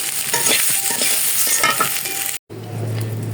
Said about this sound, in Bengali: এখন এটা ভেজে নেব, ভেজে জল দিয়ে দেব।